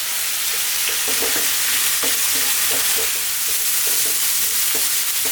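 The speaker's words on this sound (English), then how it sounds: "we're going to fry this around on a kind of above medium heat now, about 4 minutes" Onion frying in a pan over medium-high heat, a steady close hiss of sizzling with occasional scrapes and stirs, with no voices.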